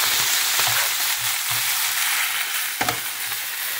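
Fresh spinach hits a hot pan of browning meat with a steady frying sizzle, broken by a few soft stirring clatters, close up with no talking.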